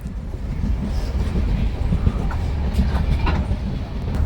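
A passenger train pulls into Madgaon railway station in Goa with a steady, loud rolling rumble and scattered clatter of wheels and carriages throughout.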